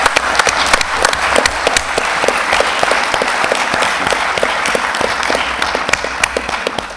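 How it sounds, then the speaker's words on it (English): A conference audience gives a round of applause for a colleague, many hands clapping densely and evenly for several seconds, loud and close throughout, with no speech over it. "A little applause for Karen."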